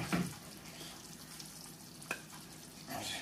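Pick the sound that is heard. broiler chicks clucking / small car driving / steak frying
steak frying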